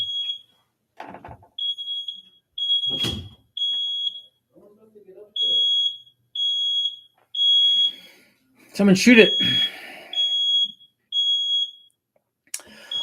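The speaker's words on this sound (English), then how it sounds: "I know my dog's freaking out if that's a smoke alarm or something." A smoke alarm shrills in rapid, evenly spaced high beeps, loud and persistent, with a person speaking briefly over it and a few sharp knocks in between.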